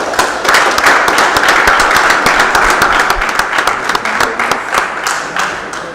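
A standing assembly at a formal council meeting gives sustained applause saluting the national flag, a dense, loud clapping that thins toward the end.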